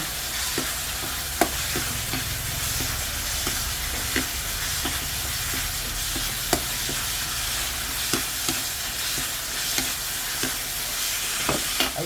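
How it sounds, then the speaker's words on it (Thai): Chili and garlic sizzle and crackle steadily in a hot pan as they are stir-fried for a dry pork stir-fry, with occasional sharp scrapes and clinks of the spatula against the pan throughout, and no voices. "ผัดให้เครื่องสุกหน่อยค่ะ ให้ทั่วพริก"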